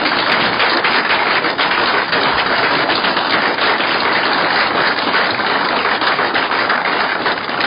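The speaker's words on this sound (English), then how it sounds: "I think with that, he deserves some applause." Sustained applause from people gathered at a city council meeting in Princeton, a dense, steady wash of clapping that holds loud and even for several seconds with no talking over it.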